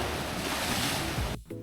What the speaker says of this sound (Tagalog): Kung makikita nyo, sobrang lakas ng mga alon.